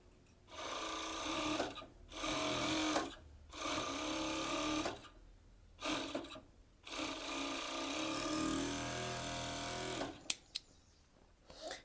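A sewing machine stitches elastic onto a bikini in bursts of steady mechanical whirring, each run lasting a second or more, separated by short pauses and ending with a few faint clicks.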